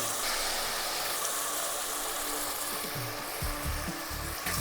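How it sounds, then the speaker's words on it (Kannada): Finely chopped tomatoes fry in a pan for Jain idli sambar, a steady close hiss and sizzle with a few scraping stirs near the end. "ಚೆನ್ನಾಗಿ ಫ್ರೈ ಮಾಡ್ಕೊಳ್ಳೋಣ ಟೊಮೆಟೊನ."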